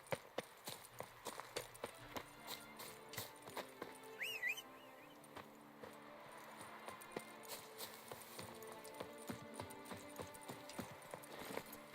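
Horse clip-clopping at a steady gallop in The Witcher, hoofbeats repeating in an even rhythm throughout, with a brief whinny partway through over a soft game music bed.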